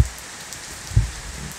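Heavy rain patters down in a dense, steady hiss, close and fairly loud, with one soft thud partway through.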